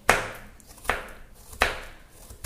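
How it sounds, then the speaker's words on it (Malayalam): A knife chops lengthwise through banana stem on a board in three sharp, evenly spaced strokes, close and distinct, with no talking. "ഇങ്ങനെ നീളത്തിൽ ഇങ്ങനെ നുറുക്കുക."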